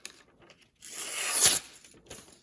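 A knife blade, just sharpened on a Spyderco medium bench stone, slices through a sheet of paper and rips it, a close dry tearing rasp that swells to a sharp peak and then stops.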